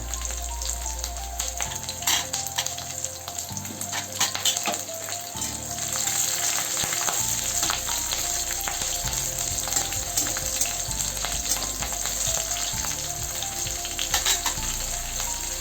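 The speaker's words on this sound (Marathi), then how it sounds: "त्यामध्ये आपण लसूण टाकून घेऊया त्यानंतर जिरं टाकायचं जिरं झालं की त्यानंतर हिरव्या मिरच्या" Garlic, cumin and green chillies sizzling in hot oil for a cauliflower bhaji, a steady crackling fry with occasional sharp pops and low stirring knocks, no voices.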